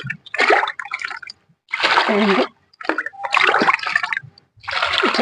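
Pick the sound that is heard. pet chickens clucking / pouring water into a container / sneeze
pouring water into a container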